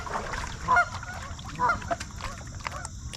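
Resident geese honk on a river, two loud nearby honking bursts about a second apart followed by fainter calls, with soft background noise.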